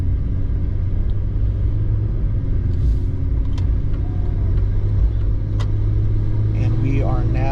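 Jeep Cherokee XJ fitted with a THOR cowl induction intake accelerating gradually on the road, a steady loud engine and road rumble heard from inside the cab with a few faint clicks and squeaks.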